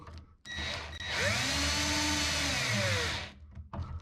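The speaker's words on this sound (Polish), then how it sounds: "dokręcam tą śrubę. Ona jest na końcówkę Torxa." A power screwdriver drives a Torx screw into a Blum Aventos HK lift mechanism, giving one sustained whirring burst of about two seconds with a falling pitch as the screw tightens, close and loud, framed by brief quieter handling noises.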